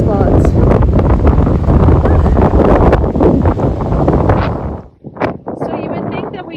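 Strong wind buffeting the microphone at a coastal kayaking campsite, a loud continuous roar that drops briefly near the end before gusting again.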